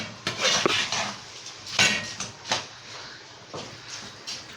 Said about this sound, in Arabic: ومع التقليب هنقلب لحد كل الرز ما يشرب ايه التوابل اللي حطيتها